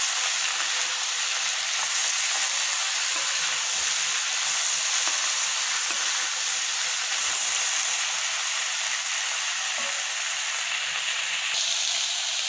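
Ingredients for bisibelebath, including freshly cut vegetables, sauté in a hot pan with a steady, loud sizzle and frying hiss that runs continuously and alone, with faint stirring scrapes.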